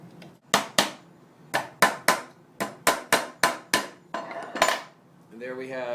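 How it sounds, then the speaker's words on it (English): Brass rivets are hammered with a rivet set into a beer tap faceplate, about a dozen sharp, close metallic strikes in uneven pairs and runs, ending in a ringing tone. "Followed by a rivet set. Each faceplate gets 4 brass rivets."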